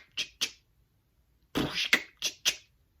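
A beatboxer imitates drums for Ed Sheeran's live looping version of You Need Me I Don't Need You: two short bass bursts, a pause, then a longer scratch sound and two sharp 'ch' hits, all close and alone.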